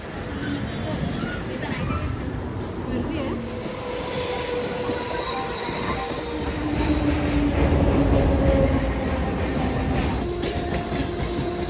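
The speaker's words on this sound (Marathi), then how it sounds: "चला ठीक आहे ट्रेन आली आहे. गेली ट्रेन." A Mumbai local train arrives and rushes past in a steady roar of wheels and carriages, swelling louder midway with squealing and clatter, with people talking nearby.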